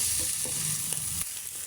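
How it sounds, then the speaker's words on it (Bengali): Chopped tomato is stirred through a hot pan, giving a continuous close sizzle broken by soft scraping strokes of the spatula, with no voices. "এভাবে যখন ভাজা হবে তখন কিছু টমেটো কুচি দিয়ে দেব, দিয়ে ভালো করে লাড়াচাড়া দিয়ে"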